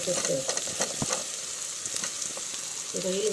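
Boiled prawn pieces fry in a pan with a ginger-garlic tempering, sizzling steadily while a spoon stirs and scrapes in repeated strokes close by, with no speech.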